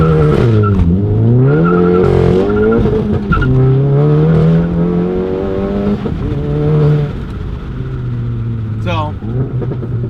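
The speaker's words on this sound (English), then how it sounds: "So we'll start off with a little launch." A 2017 Volkswagen MK7 GTI with 70,000 miles makes a hard launch from standstill, the engine revving up loudly through rising pitch sweeps with a brief gear-change dip, heard close from inside the car.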